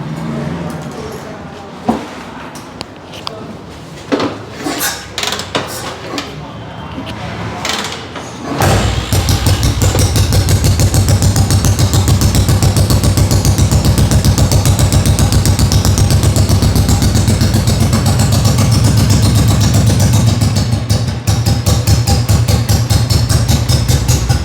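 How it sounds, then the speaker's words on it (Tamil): Vintage motorcycle engine, fabricated and restored, with a few kick or cranking attempts and mechanical clatter before it fires. It then settles into a loud, steady idle with a rapid pulsing beat. "ஸோ இன்ஜின் உங்களுக்கு ஸ்டார்ட் பண்ணி காமிக்கணுமா?"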